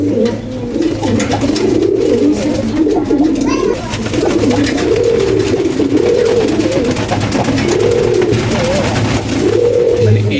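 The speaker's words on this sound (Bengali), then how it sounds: "ডিম পাড়ার সময় হলেই এরকম সে ডাকে" A male pigeon coos at egg-laying time, close and loud, with a continuous rolling, looping rhythm. A faint voice is heard under it.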